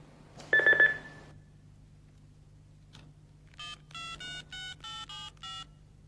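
A telephone is dialed: an early electronic beep, a pause, then a quick run of about eight clear keypad tones, each a short even beep, sounding close and alone with a low hum underneath.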